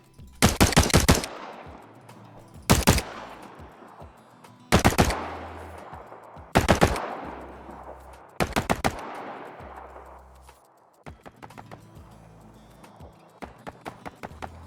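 Bursts of rapid gunshots crack out in clusters, each trailing into a long fading echo as if fired at a distance.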